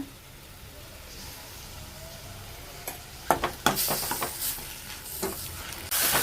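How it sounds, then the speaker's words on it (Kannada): Tomatoes frying in a pan for palak chutney while a spoon stirs them, giving a low sizzle with several sharp scraping strokes that grow busier toward the end, close by without speech. "ಟೊಮೆಟೊನು ಚೆನ್ನಾಗಿ ಫ್ರೈ ಆಗಬೇಕು, ಅಷ್ಟು ತನಕ ಹುರ್ಕೋಬೇಕು"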